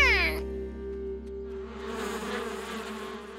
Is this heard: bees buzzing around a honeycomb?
yes